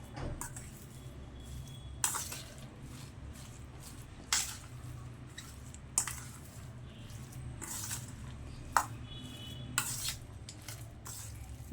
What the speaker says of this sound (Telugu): దీన్ని మంచిగా ఇట్లా మ్యాష్ చేసుకోవాలండి